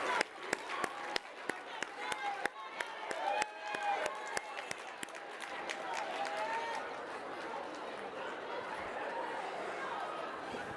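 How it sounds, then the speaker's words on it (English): A gala auction crowd claps in a round of applause, with sharp individual claps thinning out over crowd chatter and cheering that continue after the clapping fades. "Let's give Jody a round of applause"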